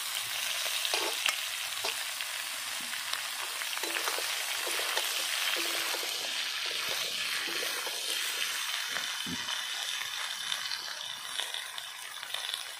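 Potatoes and chopped bottle gourd frying in a pan, a loud continuous crackling sizzle close up with occasional scrapes of stirring, no voices.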